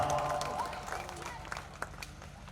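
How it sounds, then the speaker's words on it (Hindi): A crowd at an All India Mushaira poetry gathering in Bihar claps with scattered, uneven hand claps, fairly distant and faint, with cheering voices and people talking over it. "थोड़ा सा तालियां ठोक दीजिए आप लोग, अच्छा लगता है।"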